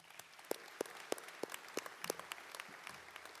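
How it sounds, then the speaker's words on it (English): Scattered, fairly faint clapping at an awards induction ceremony, with a few sharp individual claps standing out in a slow, uneven rhythm. "Let's give MACNY a big round of applause"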